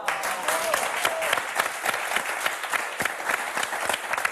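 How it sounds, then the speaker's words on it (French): Audience applause following a card trick, a steady burst of clapping from a small crowd that continues throughout. "comme au spectacle, on applaudit"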